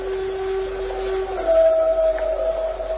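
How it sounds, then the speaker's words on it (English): Distant screaming-like cry in evening woods, a long sustained tonal wail rising and holding steady over about three seconds, faint and far off with hiss of the forest behind it. "it's a man screaming"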